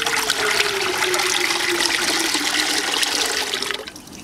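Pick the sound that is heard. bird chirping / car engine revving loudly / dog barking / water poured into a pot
water poured into a pot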